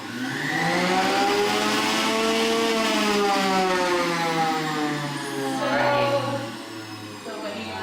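A Breville centrifugal juicer at its high speed setting gives a loud, steady motor whine with rising harmonic tones that dips briefly and climbs again, close by.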